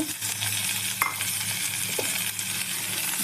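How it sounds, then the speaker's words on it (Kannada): Raw tomato and green chilli fry in a pan with a loud, constant hiss of hot oil, broken by a couple of metallic clinks from stirring; no talking. "ಅಷ್ಟನ್ನು ಸೇರಿಸಿ ಚೆನ್ನಾಗಿ ಫ್ರೈ ಮಾಡ್ಕೊಳ್ಳಿ"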